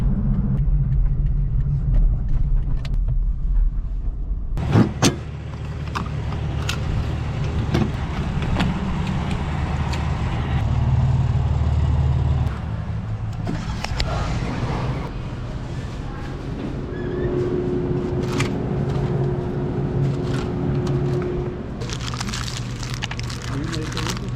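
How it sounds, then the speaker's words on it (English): A Toyota Prius hybrid with a roof-mounted camper cruising at about 40 mph, heard from inside as a steady low road rumble and tire hum that lasts throughout, with a brief clunk early on. "Just driving down the road going about 40 miles an hour, I can't even tell that it has a camper on the roof."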